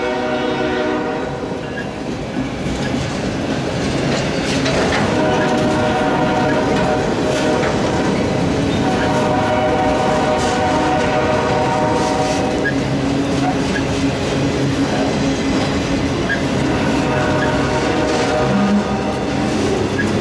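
A Norfolk Southern autorack freight train rolls past close by, loud and steady for the whole span, with sustained horn blasts over the rumble and clatter of the cars.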